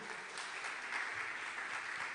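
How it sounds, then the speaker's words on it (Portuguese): A church congregation applauds in praise during a sermon, a steady, fairly faint wash of many hands clapping heard from a distance, with no voices over it. "você pode aplaudir o nosso Senhor"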